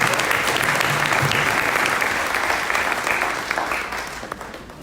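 An audience applauds to welcome a speaker at a talk, a dense, steady clapping from a full room that carries on strongly before gradually tapering off toward the end.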